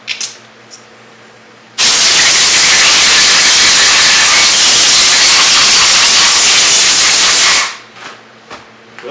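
Compressed air blowing out the honed cylinder of a Polaris Indy 440 fan-cooled snowmobile engine, a loud, steady hiss lasting about six seconds, starting and stopping abruptly against a quiet room.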